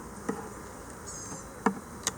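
Honey bees drone softly around a hive holding a weak colony, a faint continuous buzz with a few sharp clicks and brief louder buzzes from single bees passing close.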